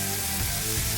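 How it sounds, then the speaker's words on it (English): Beef burger patties sizzle on a Blackstone flat-top griddle, a steady, close frying hiss with soft low crackle and no voices. "That's what I wanna hear, that sizzle."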